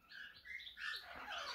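A show-type budgerigar gives quick, high, twittering chirps in short bursts, faint and close in a quiet room, with no one talking.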